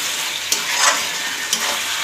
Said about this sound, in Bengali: মশলা পেস্টটা এটা আমি দিয়ে আবার আমি এটাকে ভালো করে কমিয়ে কষিয়ে নেবো